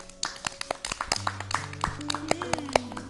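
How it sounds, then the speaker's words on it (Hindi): Children in a studio audience clap for a poem recitation on a children's television programme, giving scattered, uneven claps of varying loudness while someone talks over them. "मेहरान के लिए जोरदार तालियां बजा दो।"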